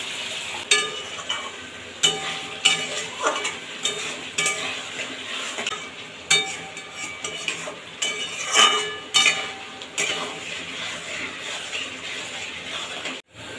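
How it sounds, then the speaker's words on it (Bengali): New potatoes and ground chilli and turmeric being stir-fried in a pan with a little water, with repeated sharp clinks and scrapes of a spatula against metal over a soft sizzle; close, no speech. "ভালোভাবে এটাকে কষিয়ে নেব। এই সময় সামান্য পরিমাণে জল দিয়ে দেবো, যেন লঙ্কার গুঁড়ো, হলুদ গুঁড়োটা পুড়ে না যায়।"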